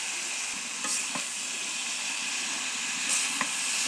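Pumpkin greens hitting a pan of cooked-down spice paste with potato for a dried-fish fry, giving a steady loud hiss and sizzle with a few stirring clinks close by.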